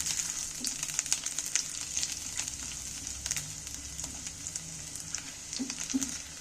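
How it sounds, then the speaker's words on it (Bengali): Steady sizzling of thinly sliced garlic frying in hot oil, with occasional crackles and pops throughout, close and continuous with no talking. "সরু কাটা রসুনগুলো তেলের মধ্যে তুলে দিচ্ছি দিয়ে এইগুলোকেও আমি তেলের মধ্যে একটু ভেজে নিচ্ছি"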